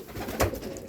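Racing pigeon coos in a single brief, close burst at a sprint race loft, heard alone with no talk.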